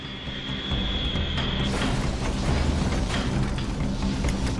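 American Airlines Flight 587 airliner climbing through wake turbulence, a loud steady jet engine roar and broadband cabin rumble filling the whole stretch without pause.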